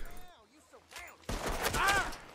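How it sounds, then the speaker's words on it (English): A shotgun firing in Red Dead Redemption 2: after a voice speaking, a sudden loud blast hits and its noisy echo rolls on to the end. "I love this shotgun"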